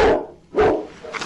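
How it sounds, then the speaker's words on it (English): A dog barks twice, loud and close, with a shorter yip trailing after. "you can hear him barking"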